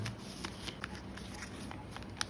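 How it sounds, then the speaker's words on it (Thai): Paper corners are folded in for a paper fortune teller, giving soft, close rustles and a few small crisp creases and taps, faint and without talking. "แล้วเราก็พลิกกลับหลัง แล้วก็พับ มุมเข้าไปตรงกลางอีกรอบหนึ่งทั้ง 4 ด้าน"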